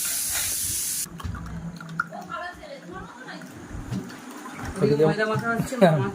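A kitchen pressure cooker whistle hisses loudly and steadily for about a second at the start, then cuts off, leaving household noise and people talking.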